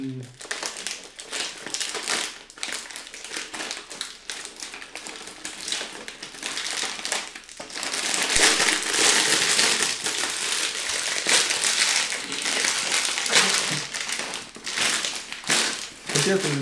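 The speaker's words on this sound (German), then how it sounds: "Wenn ihr die Tüte aufreißen wollt und dann macht ihr so und lässt ihr das Tüte kaputt." Plastic snack bag from a vegan sweets box crinkled and crushed continuously at close range, loud rustling that grows denser and harsher midway, with a person talking over it at times.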